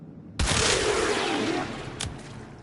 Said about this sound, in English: And we're going to shoot.